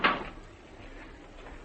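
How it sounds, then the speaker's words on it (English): A single soft thud of a door shutting at the start, followed by quiet room tone in an indoor radio-drama scene. "Close the door, Stoddard."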